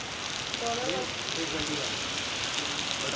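Steady heavy rain hiss at night in Colombo, Sri Lanka, near Independence Square, filling the clip at an even level, with faint tonal traces of distant voices or traffic briefly rising underneath.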